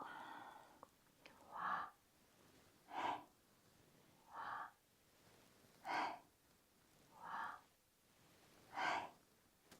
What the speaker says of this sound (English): Deep breath in and exhale